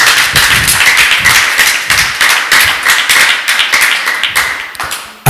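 Loud rhythmic clapping from a church congregation praising God, with fast, steady beats that continue for several seconds and fill the room.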